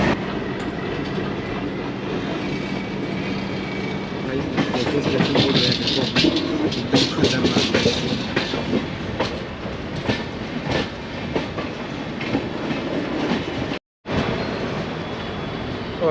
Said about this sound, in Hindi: ये सामने भिलाई SSCR का मेमू लोकल